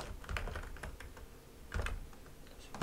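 Computer keyboard keys are pressed in quick, uneven clusters of clicks for Ctrl, Shift and Alt shortcuts while working in ZBrush, close and fairly quiet, with no voices.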